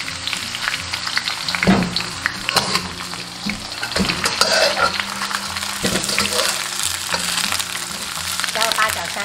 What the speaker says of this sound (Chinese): 锅中倒食用油，先下入姜片、葱油、葱花，闻到香味过后下入猪蹄